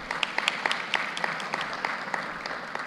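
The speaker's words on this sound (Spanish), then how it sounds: "Los aplausos, los queremos escuchar." A crowd applauds steadily throughout, a dense wash of clapping at moderate distance with no voices.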